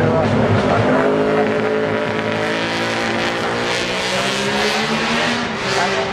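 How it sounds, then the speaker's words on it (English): Yamaha YZR 500 racing motorcycle, number 7, running at the Goodwood Festival of Speed 2023, gives a loud, steady, high-revving engine roar that holds for the whole stretch with slight swells as it passes. "here we're seeing another Extreme bike, number 7 here. That's the YZR 500 Yamaha, and this is towards the end of Sheen's care"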